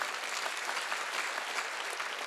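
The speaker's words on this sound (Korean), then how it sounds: "박수 치라 이거야." A church congregation claps during a Sunday worship service, a steady, even patter of many hands heard from a moderate distance for a couple of seconds.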